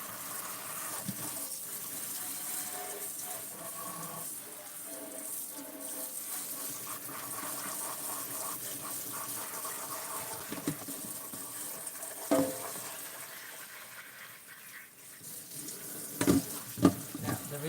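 Warm, almost hot water runs steadily from a tap into a sink, a continuous gushing splash at moderate volume with a few brief clunks near the end.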